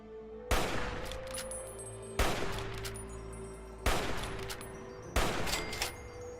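Gunfire in Fallout 3 aimed at a Super Mutant: four loud, evenly spaced shots, each a sharp crack that rings and decays over a second or so above a low game hum.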